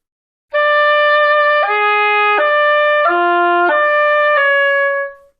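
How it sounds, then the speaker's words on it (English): An oboe plays a slow sequence of sustained forked-F fingering notes, each held for about a second, clear and reedy, alone and up close. "Slowly, forked F will sound like this."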